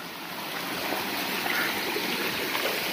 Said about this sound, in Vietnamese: Thì giờ hai anh em sẽ men theo bờ suối này.